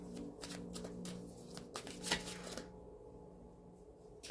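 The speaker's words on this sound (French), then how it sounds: "On me demande de tirer une carte" Playing cards are shuffled by hand in a quick run of crisp riffling bursts up close, ending in a short pause, with no talking.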